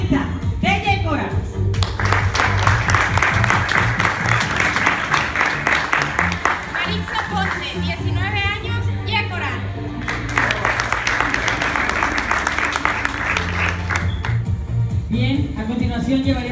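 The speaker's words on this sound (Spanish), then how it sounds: "Y por último, recibimos con un fuerte aplauso a Maritza de Yecora." An audience claps for a pageant candidate at a Miss Petite presentation, with bursts of rhythmic applause and cheering under music and a speaking voice throughout.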